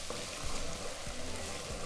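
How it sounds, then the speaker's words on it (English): Poblano pepper and minced garlic sautéing in a pot, a steady close sizzle with a few soft scrapes of stirring, no voices. "We're going to mix it and allow that to saute for 30 seconds."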